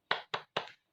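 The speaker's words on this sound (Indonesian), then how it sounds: "kita tepuk semangat dulu ya" Children clap out the rhythmic Indonesian tepuk semangat chant: three sharp, close claps in quick succession, the last slightly longer, then silence.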